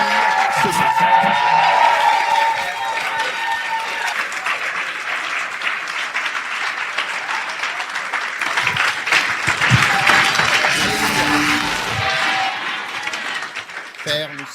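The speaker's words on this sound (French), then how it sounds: "Applaudissez avec moi" A church congregation in Calgary applauds for a long stretch, loud and dense clapping mixed with a few shouts and voices that continues almost unbroken before fading at the very end.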